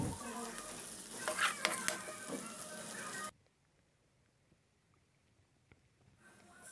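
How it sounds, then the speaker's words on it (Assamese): Onion, ginger and garlic fry in a pan while being stirred, giving a close, crackling sizzle for about three seconds. The sound then cuts to near silence, with a faint rise returning at the end. "এতিয়া এইখিনি ৰঙচুৱা হোৱালৈকে মই ভাজি থাকিম"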